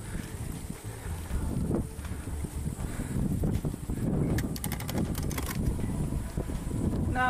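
Strong wind buffets the microphone during a weekly bike ride, with uneven low gusts and rumble rising and falling, plus a brief rattle partway through.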